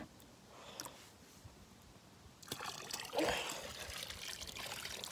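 Warm water trickles and splashes, quiet at first and then fuller and steadier in the second half, close by with no talk over it.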